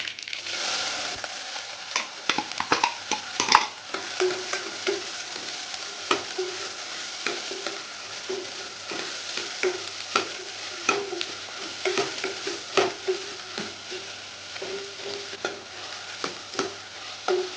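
Onions sautéing in oil with mustard seeds and fenugreek in a pan for a Thanjavur sundakkai kuzhambu, a soft continuous sizzle under repeated sharp spatula scrapes and taps, no talk.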